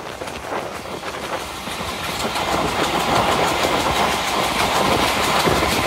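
The Bhanga commuter train runs through Nimtola station without stopping, a loud continuous rumble and clatter of wheels on rails heard from inside the carriage that builds slightly in intensity.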